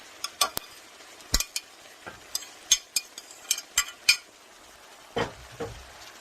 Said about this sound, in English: I'm just stirring that around and blending it up.